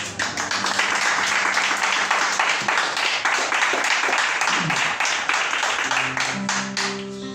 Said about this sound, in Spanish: mejor darle el mejor de los aplausos y decirle gracias